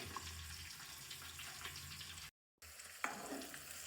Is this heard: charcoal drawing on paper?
no